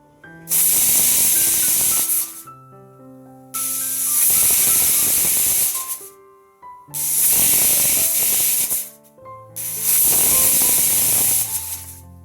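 A pressure cooker boiling dal lets off loud, piercing steam whistles, four long hissing blasts with brief quiet gaps between them, close by and with no one speaking.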